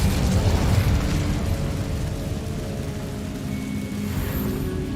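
Incendio fire spell in Hogwarts Legacy, a loud whooshing burst of flame that erupts at the start, then settles into a sustained rumbling roar that trails off.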